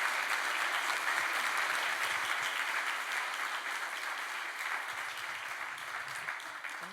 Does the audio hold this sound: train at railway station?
no